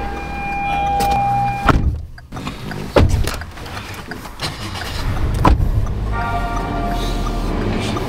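Inside an all-new Perodua Alza on a test drive, clicks and thumps of controls mix with a low engine hum and brief whirring mechanisms, all close and fairly loud.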